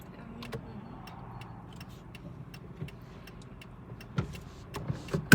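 Car driving slowly out of a driving test service centre in Brovary, a low steady engine hum inside the cabin with faint ticks and a few light knocks.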